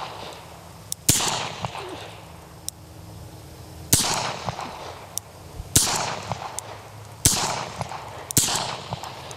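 Handgun shots fired during a night shooting session, sharp loud cracks spaced irregularly, some in quick pairs, each ringing out briefly into the open dark, with faint background noise between.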